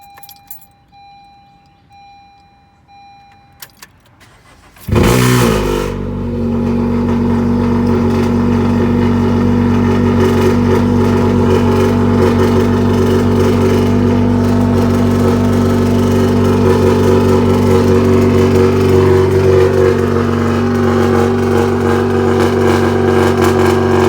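A car engine fitted with an Injen cold air intake and no resonators starts abruptly from near silence and settles into a loud, sustained droning hum, heard close with no talking.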